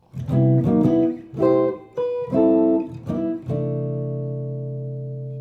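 Clean electric guitar playing melodic comping chords struck in a short syncopated rhythm, about six stabs, the last one left ringing and fading out.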